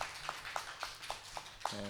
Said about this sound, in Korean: 우리 함께 우리 만날 날을 기약하면서 우리 박수로 환송하겠습니다